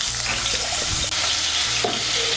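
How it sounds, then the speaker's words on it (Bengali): Large potato cut into pieces frying in hot oil, a loud, dense, continuous sizzle with occasional spoon knocks, close and steady with no speech. "এর মধ্যে আলুগুলো ভেজে নিচ্ছি"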